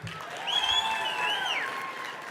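An audience at the Kentucky Entrepreneur Hall of Fame induction ceremony applauds steadily, a wash of clapping with a high whistle rising above it in the middle and no voice over it.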